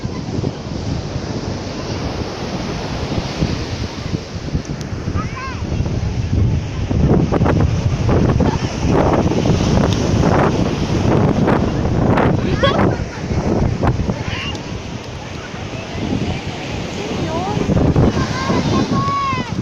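Steady roar of surf and gusting wind at the shore, loud and continuous, with voices talking over it.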